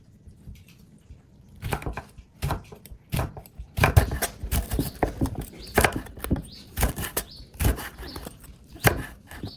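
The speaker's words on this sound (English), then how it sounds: "Slice 2 chili peppers thinly." Knife slicing two chili peppers thinly on a cutting board, a series of crisp, irregular chopping taps that speed up and grow louder midway, close and without speech.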